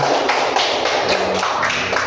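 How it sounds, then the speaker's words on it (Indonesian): Children clap together in a short burst of quick, overlapping hand taps, fairly close and steady throughout, with no talking. "Ya, tepuk tangan anak-anak"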